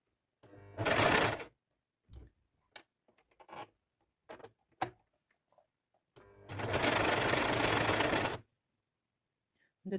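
A sewing machine runs a straight seam about 0.5 cm from the edge in two loud, steady bursts, one short and one longer, with soft fabric handling and clicks in between.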